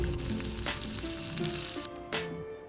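Chicken pieces for a crispy zinger roll deep-frying in hot oil, a steady close sizzle with a few bubbling bursts and light clinks of a utensil, no talking.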